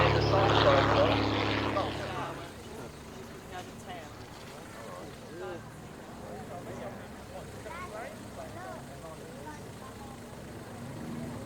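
An old propeller-driven A-model aeroplane flying at the Duxford autumn air display, a steady distant engine drone that is louder at first and then fades, with someone talking over it throughout.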